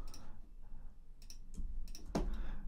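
Crisp, quiet mouse clicks come in a few spaced bursts while shapes are drawn in design software, close and dry, with a faint thump near the end and no voice.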